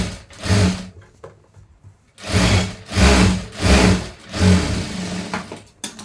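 Sewing machine stitching lining onto an old saree, running in short repeated bursts with brief pauses between, close and steady mechanical whirring.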